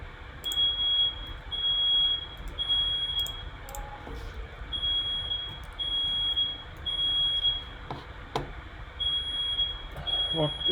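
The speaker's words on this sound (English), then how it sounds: "So that was a fire alarm" A fire alarm chirps in a steady series of short, high, evenly spaced beeps, with scattered clicks and a low room hum running underneath.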